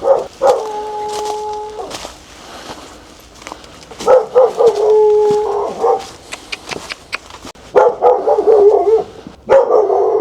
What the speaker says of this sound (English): Oh, there's a stray dog. I'm going to say hello to him. He's barking at me.